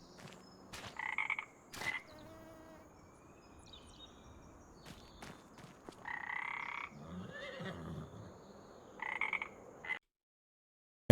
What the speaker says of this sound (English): listening to our frogs